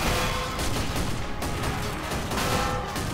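Gunfire in the video game Men of War Assault Squad, a dense continuous roar of shots and booms, loud and steady throughout with no voices.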